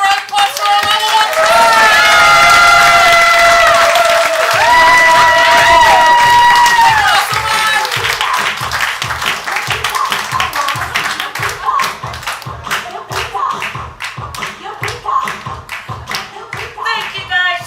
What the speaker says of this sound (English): Give a round of applause for our level 1